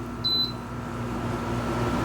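A portable cooling fan runs at medium speed, giving a steady, even whir with a constant low hum, and a short electronic beep sounds near the start.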